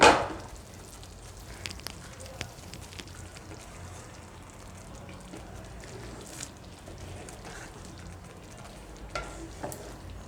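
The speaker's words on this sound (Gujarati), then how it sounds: "આને આપણે થોડીક વાર આ રીતે ઉકાળી લીધું." Paneer cooked in a coconut cream curry simmers gently in a pan over low gas, giving a steady soft bubbling sizzle at close range with occasional small pops and a brief clatter at the start.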